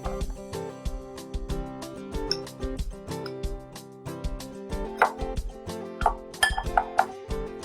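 Purple yam kebab mixture with desiccated coconut, salt and black pepper being mixed in a bowl: rapid, irregular clinks and scrapes of a utensil against the bowl, close and fairly loud, growing busier toward the end.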